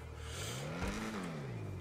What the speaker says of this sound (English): now I wonder if this will change the exhaust sound